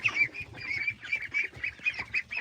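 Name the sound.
young ducks and chickens calling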